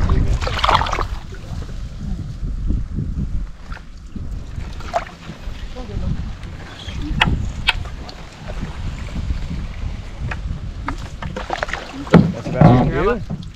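A canoe moving through the Minesing Wetlands, with paddle strokes and water sloshing against the hull, wind buffeting the microphone, and people talking over it throughout.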